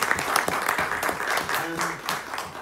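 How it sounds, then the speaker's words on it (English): An audience gives a short burst of applause for a speaker after an agritech talk, with close, distinct hand claps standing out over the general clapping. "please, if we could give Farai a very warm round of applause."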